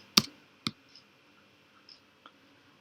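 A few separate keystrokes on a computer keyboard, typed in a terminal to open Visual Studio Code, fall as sparse sharp clicks with long gaps between them, fairly faint and with no voice over them.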